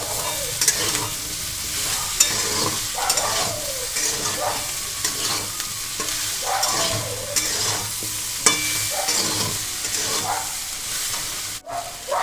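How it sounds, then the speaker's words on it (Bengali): Vegetables for dudh sukto, seasoned with salt, are stir-fried in a pan. A steady close sizzle runs under repeated scraping strokes of a spatula. "সবজিগুলো এখানে হালকা করে আমার ভাজা হয়ে গেছে"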